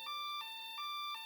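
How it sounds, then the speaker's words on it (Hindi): A toy truck's electronic siren wails in a clear, fairly close two-tone pattern, switching pitch about three times in just over a second with no talking over it. "इसमें सायरन भी है और लाइट भी जलती है।"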